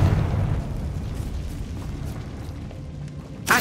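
Confringo fire spell from Hogwarts Legacy erupts in a loud, rumbling blast that slowly decays into a low roaring tail, with a sharp new burst starting at the very end.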